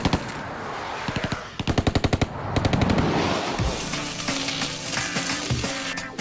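Rapid bursts of automatic gunfire rattle out in several volleys with short pauses between them, loud and close, with echoing shots trailing into the background.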